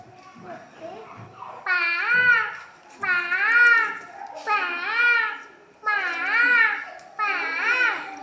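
A voice mimics a peacock's call, giving a run of high, wavering, nasal cries in repeated bursts, close and fairly loud.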